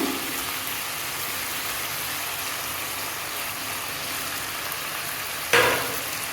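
Three chopped tomatoes fry in hot oil for a chicken pepper rasam, a steady close sizzle and crackle throughout, broken near the end by a sharp clatter of stirring.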